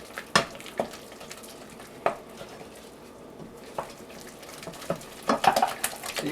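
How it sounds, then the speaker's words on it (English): An egg being beaten into cream puff dough for a 1964 Wisconsin Dairyland recipe, with irregular close knocks and scraping clicks of the utensil against the bowl, fairly faint and without talk. "after you beat it for a while, it'll mix into the flour mixture"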